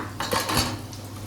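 A spoon taps against a kitchen vessel while tamarind juice is strained for a Nellore-style fish curry, a short burst of close metallic clinks and knocks that settles into a quiet hum.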